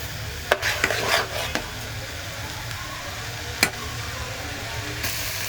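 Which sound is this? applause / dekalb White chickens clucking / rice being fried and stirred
rice being fried and stirred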